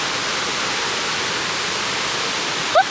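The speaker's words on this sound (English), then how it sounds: "It's actually like a massive waterfall." Large waterfall at Booloumba Creek rushes in a steady, broad roar heard from a lookout, loud and continuous, with a brief faint vocal chirp near the end.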